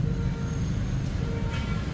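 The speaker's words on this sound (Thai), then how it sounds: "มาถ่ายก็ได้เห็นรถไฟวิ่งนะครับ" Steady low rumble of a train rolling past in Mueang Saraburi, Thailand, continuous and fairly loud throughout, with no voices.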